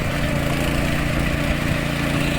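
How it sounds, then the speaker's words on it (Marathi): A tractor ploughs a flooded paddy field, its engine running as a steady, loud mid-to-low drone throughout with no pauses. "आता बघा, भांग्यात पाणीला ट्रॅक्टरने इकडे नांगरणी चालू केला"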